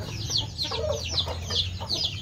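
Cornish bantam chickens and their young cluck in a rapid, repeated series, a steady stream of short calls over a low background hum.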